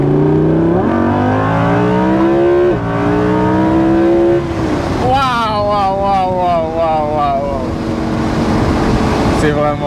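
A four-wheeled car accelerates hard, its engine note climbing in repeated rising sweeps through the gears, loud and close, with a voice talking over part of it.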